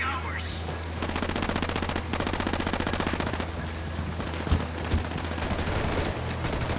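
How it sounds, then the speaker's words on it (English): Automatic gunfire fills a firefight in the video game Ghost Recon Wildlands as enemies shoot at an emitter, rapid sustained bursts of rattling shots under a low steady hum, with a couple of heavier impacts near the end. "The Sicarios are shooting the hell out of this emitter."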